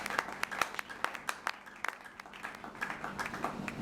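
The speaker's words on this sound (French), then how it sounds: "Est-ce qu'il y a une acclamation pour le Seigneur ce soir?" A church congregation claps during an evening service in a series of sharp, uneven claps, moderately close, with no cheering evident.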